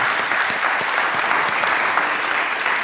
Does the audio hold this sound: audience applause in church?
yes